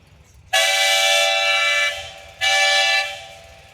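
Two loud, steady steam whistle blasts at a steam threshers reunion in western Minnesota, the first long and the second shorter, sounding alone over faint background rumble.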